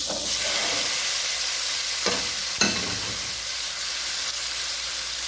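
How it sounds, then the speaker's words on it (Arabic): Meat dropped into a preheated pot with ghee for pot kebab, raising a steady loud sizzle and hiss of frying, with a couple of brief clinks partway through. "لازم الحلة نكون مسخنينها عشان لما ننزل باللحمة تاخد صدمة. ننزل بقى باللحمة"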